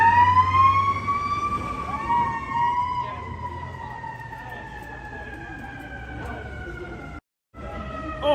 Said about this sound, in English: how can you not miss the ear-piercing sounds of sirens?